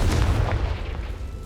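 A Confringo fire spell in Hogwarts Legacy bursting with a loud, close boom, a heavy low blast that rumbles and then fades over a second and a half.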